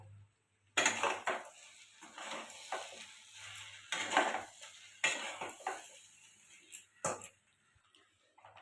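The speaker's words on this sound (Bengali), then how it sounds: "পরিমাণ মতো চাট মশলা দিয়ে দিলাম এবার এটা ভালো করে নাড়বো" Sweet corn chana is stirred with chaat masala using a spoon in a metal pot, producing irregular scraping and clinking bursts separated by short pauses, close and fairly clear.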